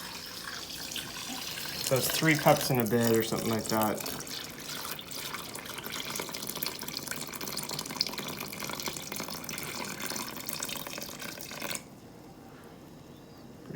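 Water is poured into a bowl while mixing sourdough with starter, a steady splashing stream close by that runs for most of the stretch, with a person speaking briefly over it before it stops.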